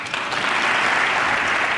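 Steady, dense crowd applause rises after a line in a presidential speech, a continuous wash of many hands clapping at full strength.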